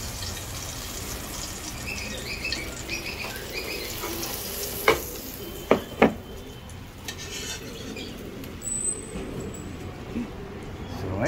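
Vegetables cook in a pan with a soft, steady sizzle, a few sharp clanks of utensil against the pan, and a person talking now and then.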